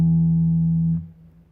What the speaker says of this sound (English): So here's the low E again.